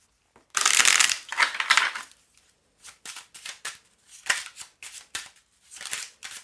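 Oracle cards, a mirror-themed deck, riffled and shuffled close by, one long dense burst followed by a series of short crisp card flicks and slaps, no voices.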